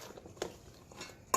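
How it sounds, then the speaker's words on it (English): A utensil stirring sugar snap peas and other vegetables in an oiled pan for a stir fry, giving a few sparse clinks and scrapes against the metal with soft rustling between them. "we're going to pop them in here. And then we're just going to stir everything to combine."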